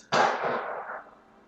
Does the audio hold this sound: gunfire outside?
yes